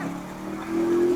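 A motorbike engine in GTA 5 holds a steady droning hum that rises to a louder, higher-pitched revving tone midway, close and continuous.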